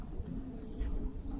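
Racing pigeons coo softly at the loft during a 150-mile race, a low murmuring burble that runs steadily under faint background noise.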